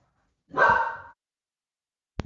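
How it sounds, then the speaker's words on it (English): A dog gives a single sharp, fairly close bark, followed by quiet and then a brief thump near the end. "Sometimes you're going to hear my dogs bark"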